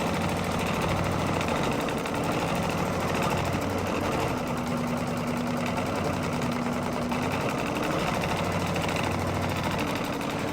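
An embroidery sewing machine stitches out a Kimberbell luggage tag, a steady close mechanical whir and rapid needle rattle running continuously with slight pitch shifts, no talking.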